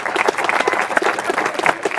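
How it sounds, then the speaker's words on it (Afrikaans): Wedding guests applaud a newly married couple, Tiaan and Jandrie, with steady, dense clapping from a nearby crowd that keeps going without a break. "En julle mag nou vir hulle hande klap"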